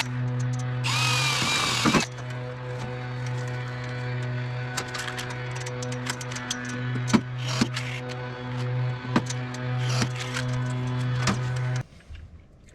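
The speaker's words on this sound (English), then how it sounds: "I'm gonna go ahead and start putting some rivets in" Power tool work on a metal roof ridge as rivets go in: a loud whirring burst near the start, then a steady motor hum with repeated sharp clicks and short taps, close by with no talk.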